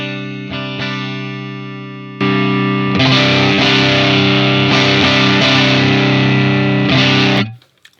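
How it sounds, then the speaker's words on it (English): Electric guitar pushed hard through a Bardic Audio Advantage Dirty Boost pedal with the amp volume on 10, giving a loud, thick distorted tone: a few muted picks, then sustained chords with repeated strums before an abrupt cutoff. "we have a fair amount of distortion, just like straight up volume on 10, ADB on"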